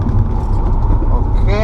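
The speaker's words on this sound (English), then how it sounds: "we're driving exactly 100 and braking to 0." A Honda S2000 with upgraded front brakes decelerates hard from 100 to a stop, a steady loud roar of road and wind noise with tyre sound that rises into a squealing whine near the end.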